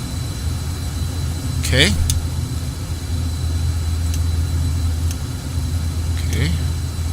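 Learjet 35 jet engine running in Microsoft Flight Simulator X, giving a steady low drone throughout, with a brief spoken word over it.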